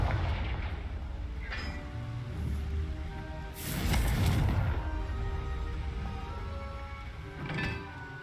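A Confringo blasting spell explosion in Hogwarts Legacy, a sudden loud boom with crackling burst in the middle, among a few smaller thuds and pops over a rumbling background.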